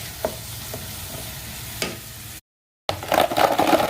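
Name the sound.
ginger and garlic sautéing in a pan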